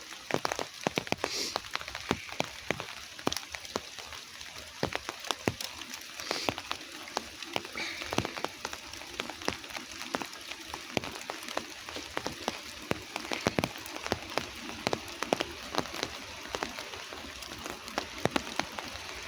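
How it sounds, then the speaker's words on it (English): Steady rain pattering onto water in the woods, with scattered sharp drops and a soft continuous hiss, fairly close and with no voices. "See the rain hitting the water."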